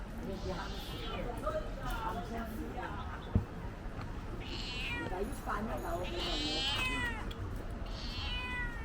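Several cat meows rise and fall amid people chatting along Liwan Creek in Guangzhou, with a single sharp knock partway through.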